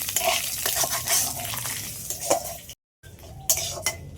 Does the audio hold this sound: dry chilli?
yes